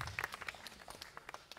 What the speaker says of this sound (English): It's okay, you can clap for that